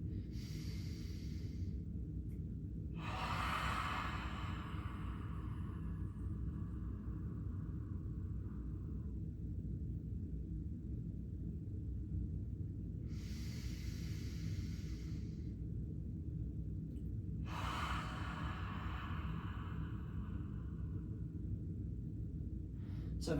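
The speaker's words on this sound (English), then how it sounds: "maintain that brace and then sneak an inhale in through the nose" A person sneaks slow nasal inhales while holding a core brace during a shoulder mobility session, several drawn-out sniffing breaths separated by pauses over a steady low background rumble.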